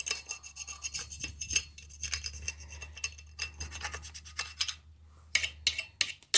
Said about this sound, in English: if you don't scrape it off first, it just blasts dirt all over you